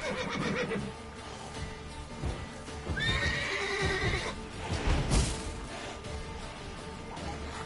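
A panicking horse in The Witcher 3 video game, a loud shrill whinny and snorting over clip-clopping hooves, close and without talk.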